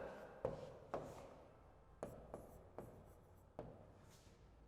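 Pen or chalk writing an answer during a physical chemistry lesson, heard as a series of short, close scratching and tapping strokes with quiet pauses between them.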